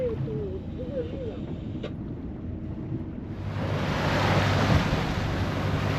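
A sailboat running under engine with its sails also raised, rolling on an ocean swell, with steady wind and water rush throughout that grows louder and fuller in the second half.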